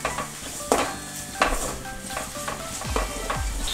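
Onions fry in a Kerala mushroom fry as a utensil stirs them in a pan, with a steady close sizzle broken by several scraping stirs and a few clinks of metal on the pan, and no talk.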